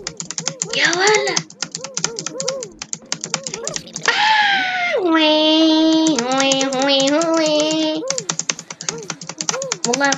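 Rapid, frantic tapping on a computer keyboard during Roblox gameplay, a dense patter running through most of the stretch under an excited voice that talks, wails and groans loudly close by.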